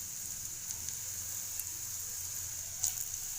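A pasta-like snack fries in hot oil over a low flame, giving a faint, steady sizzle with a few soft pops and crackles and no talking.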